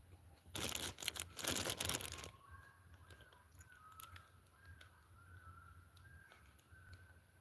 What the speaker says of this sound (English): Those sound like seagulls.